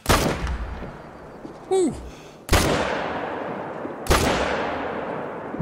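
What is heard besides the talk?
rifle shots at a bull in video game Call of the Wild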